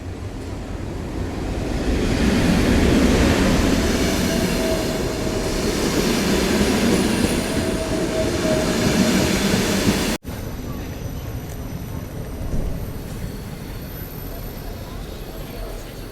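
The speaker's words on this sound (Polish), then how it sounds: "Jedzie ukraiński pociąg, na niego czekam." A Ukrainian passenger train rumbles into a Warsaw station close and loud, a heavy rolling roar with rattling cars, then the noise cuts to a quieter, steady background hum.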